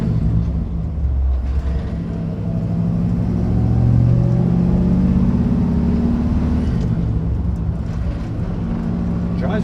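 A 1963 Chevrolet Impala drives along, engine droning low as the car slows on deceleration and its faulty transmission makes noise; a voice talks intermittently over the steady rumble.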